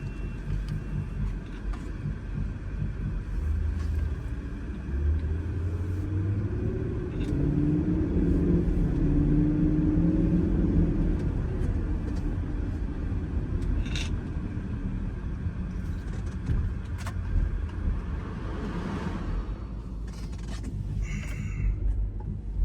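A 2004 Land Rover Range Rover HSE driving, its engine a steady low rumble with a mid-clip rise in revs as it accelerates and shifts, then settling back to an even cruise with some road noise.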